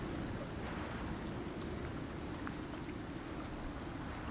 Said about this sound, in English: remove our storm exposure, and then we'll be fine for the rest of this storm here